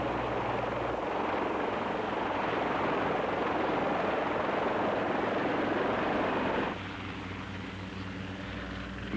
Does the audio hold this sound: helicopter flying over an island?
yes